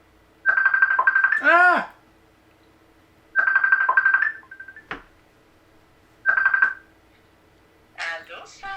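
A phone call rings out three times in evenly spaced, bright electronic ringback bursts, with a brief exclamation and faint voice sounds in the gaps between rings.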